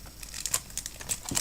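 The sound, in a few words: plastic wrapping crinkling as a model plane is unboxed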